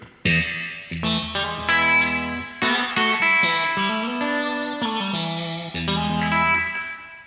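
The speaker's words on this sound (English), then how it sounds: "it's a convolution spring reverb built into this pedal" Clean electric guitar chords through an amp ring out with a wet, splashy convolution spring reverb tail from a pedal, played steadily and fairly loud with no voices.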